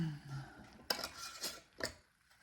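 Metal lids and bands being put onto glass canning jars of bone broth, a few sharp clinks and scraping clatters in quick succession, close and fairly quiet.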